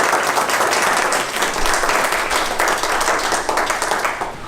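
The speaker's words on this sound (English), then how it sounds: "they deserve a round of applause for that" An audience at a community discussion claps in sustained, dense applause, loud and steady throughout, with no single voice standing out.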